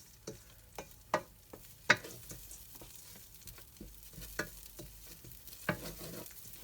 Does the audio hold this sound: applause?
no